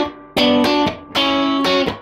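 Electric guitar plays a second variation of the intro to a song, a rhythmic pattern of four loud, punchy strummed chord stabs with slightly distorted tone, close and alone.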